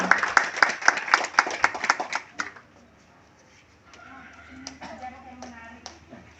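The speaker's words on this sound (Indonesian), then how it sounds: "Kita beri tepuk tangannya." Applause at a farmers' day panel event after a bamboo seedling handover, a burst of brisk clapping from a small crowd that stops after about two seconds, followed by quiet room noise and a voice.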